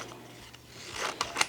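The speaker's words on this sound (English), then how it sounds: "I'm going to grab some scissors because I want to trim it down" Scissors trimming a sublimation transfer sheet for a baby blanket craft, with a few quick close snips and paper rustle toward the end, no voices.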